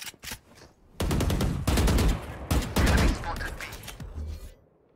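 Odin machine gun firing in Valorant, loud sustained bursts of rapid automatic fire in several long strings, with a voice talking in the background.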